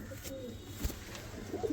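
Pet pigeons in a fancier's loft give soft, low coos, faint and brief, with no talk over them.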